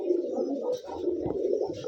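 Gorra pigeons at a Rajshahi farm coo in a steady, close, overlapping murmur of soft rolling calls, with no talk over them.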